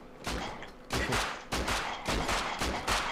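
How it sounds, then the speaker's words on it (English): Bursts of gunfire in the survival video game Rust, several loud rapid volleys of shots in quick succession, close and sharp with short gaps between them. "You're shooting each other."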